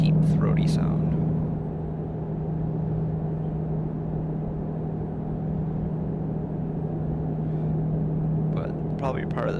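A truck engine hums steadily in a convoy trucking game, a low even drone lasting about ten seconds under a voice.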